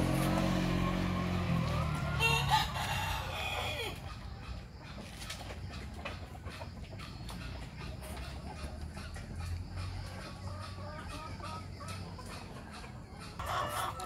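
Free-range laying hens cluck steadily in a village free-cage coop of about 200 birds. A rooster crows near the start, and the flock's clucking runs continuously at moderate loudness with a vehicle humming in the background.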